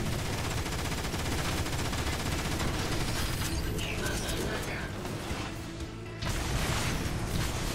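Sustained gunfire in the Transformers: War for Cybertron video game, dense overlapping shots and bursts running continuously at a steady loudness, briefly easing near the end before picking up again.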